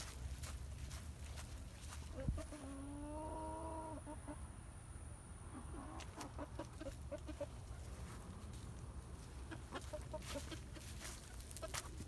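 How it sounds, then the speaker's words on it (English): Chickens cluck nearby on a farm, with short bursts of clucks in bunches and soft footsteps shuffling in between over a low background rumble. "Here's another chicken."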